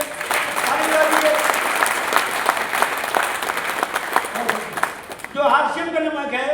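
Seminar audience in Bhilwara clapping in a dense, steady burst of applause that fades out, followed by someone speaking.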